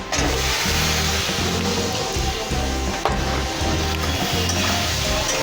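Broccoli with salt, chili, turmeric and oil sizzles in a hot pan, a steady frying hiss with rhythmic low bumping underneath, no talking.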